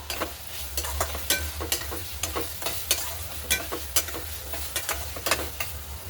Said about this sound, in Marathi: आता याच्यामध्ये आपण थोडीशी मटकी घालणार आहोत. ती छान परतून घेऊ.